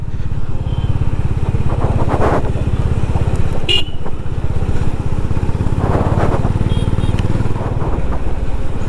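A Honda Highness motorcycle running on the road with an engine light on and a sensor fault, its loud, close thumping engine jerking and misfiring as it rides, with brief horn-like tones and traffic around.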